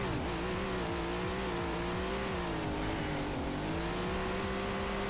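Loud Legends race car engine on a dirt track, heard from inside the car: a steady, buzzing drone with pulsing low rhythm and a wavering tone as revs dip and rise, continuous and close.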